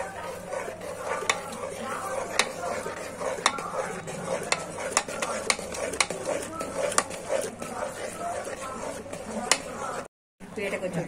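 Flour batter for chalimidi is stirred in a pan, giving repeated close scraping clicks of a utensil over a soft sizzle, while voices talk throughout.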